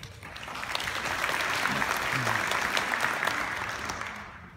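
An audience at a Bridgefestival in Svendborg breaking into applause, a dense wash of clapping that swells quickly, holds steady for several seconds and then fades out.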